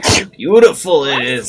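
A single short, breathy sneeze bursts out at a tabletop role-playing game session, and a person starts talking right after it.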